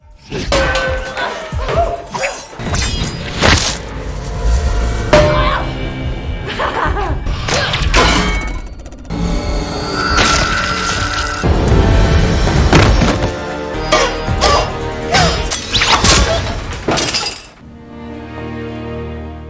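Film fight scene with improvised kitchen cookware as weapons: loud clangs, thuds, crashes and clinks of metal and glass in rapid bursts, mixed with dramatic music and effects.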